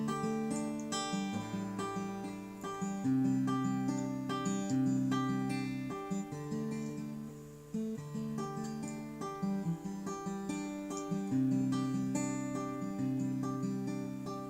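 Steel-string acoustic guitar played in a steady fingerpicked pattern over changing chords, bright plucked notes ringing over a repeating bass, clear and close with no talking.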